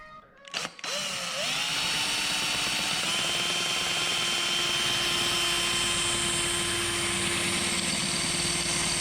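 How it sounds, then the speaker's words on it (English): A power drill bores a hole in a GTS mini bike frame, starting with a few clicks, then spinning up into a loud, sustained whine that holds steady close by without talk. "So I got the hole drilled."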